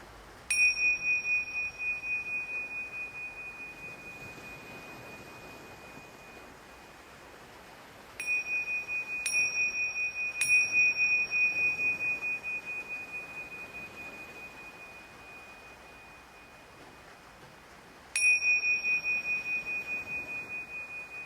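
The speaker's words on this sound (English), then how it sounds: "Returning home to your awareness with the sound of the bell, following the sound all the way to the end." A meditation bell rings alone, struck four times with long, pure tones that fade slowly between strikes in a quiet setting.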